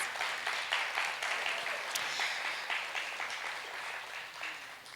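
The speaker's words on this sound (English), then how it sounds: "Can we give our donors a round of applause" An audience at a jazz music intensive claps for the scholarship donors, a steady wash of applause held at a fairly even level for the full stretch, thinning slightly toward the end.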